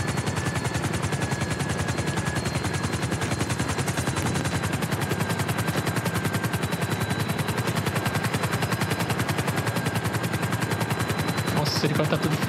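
Grand Theft Auto V gameplay: a helicopter's rapid rotor chop pulses continuously and loud, overlaid with bursts of automatic gunfire, while someone talks intermittently.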